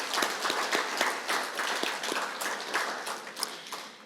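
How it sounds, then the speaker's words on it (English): Applause at a college scholarship evening event, a crowd clapping with sharp, steady claps for a few seconds at moderate distance and fairly faint, with little talk. "how about a huge round of applause"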